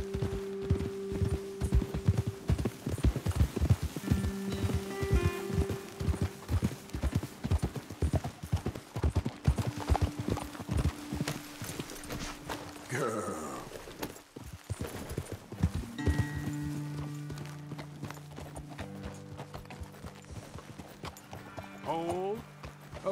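Horse hooves clip-clop on a trail in the video game Red Dead Redemption 2, steady and rhythmic at first, then slowing and thinning out. Game voices and ambient sounds run underneath.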